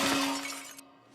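Drinking glasses shatter in a cartoon-style sound effect, a single bright loud crash with tinkling debris that quickly fades out.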